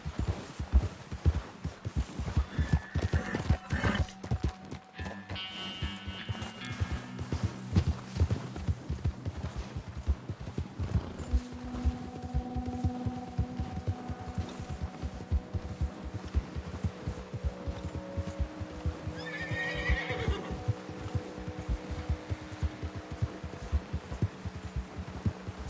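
A horse's hooves clip-clop steadily through Red Dead Redemption 2, a continuous close rhythm running the whole time, with a faint whinny-like cry partway through.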